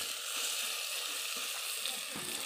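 Skin-on chicken fries in a little oil with a faint, continuous hiss and crackle, a low even sizzle close by and nothing else over it.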